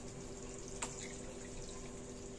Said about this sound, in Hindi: तो अपने छोलों में मैं 2 कटोरी के करीब भर के पानी ऐड करूंगी।